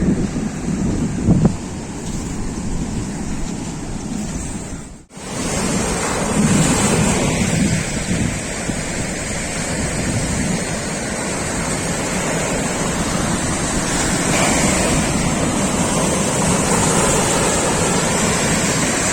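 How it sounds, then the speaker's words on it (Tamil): Morning surf at Cuddalore beach, waves crashing in a loud, continuous roar buffeted by wind on the microphone, with no voices. "சவுண்டு பாருங்களேன், பயங்கரமாக அலையடிக்கிற சவுண்டு கேட்டுருக்குங்க"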